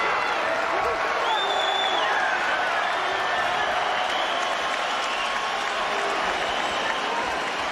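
A boxing arena crowd at a heavyweight bout between Vitali Klitschko and Lennox Lewis applauds and cheers in a steady, dense roar of clapping and shouting that fills the whole stretch.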